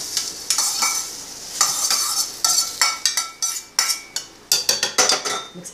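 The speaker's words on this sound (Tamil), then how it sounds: "நான் இப்ப முந்திரி பருப்பு இதில் சேர்த்து" Cashew nuts go into a pot of cooking Thiruvathirai kali and get stirred, with a close, rhythmic series of spoon scrapes and clinks against the metal vessel over a soft sizzle.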